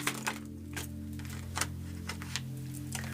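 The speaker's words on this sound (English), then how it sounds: "Now let's see what card we shuffle out." Tarot cards are shuffled in a series of crisp, clicking snaps spaced irregularly over a steady low hum, close and moderately quiet, with no talking.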